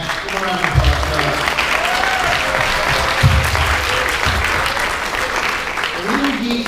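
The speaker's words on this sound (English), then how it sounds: "Give a round of applause for" Audience applause at a Godzilla 65th anniversary panel, a steady wash of clapping from a crowd lasting several seconds, with voices and cheers mixed in.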